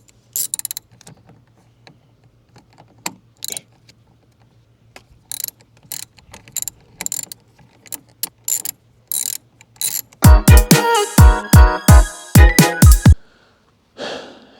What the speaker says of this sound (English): I'm using a 1/2-inch socket